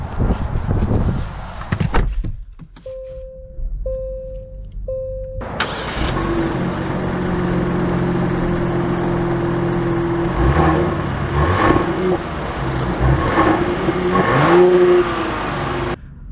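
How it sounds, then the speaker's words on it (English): A 2023 Genesis GV80 Prestige SUV starts up with a burst and settles into a steady engine hum, with chimes and a door sound at the start and soft cabin noises as it begins to drive. "Let's take it out for a short little drive."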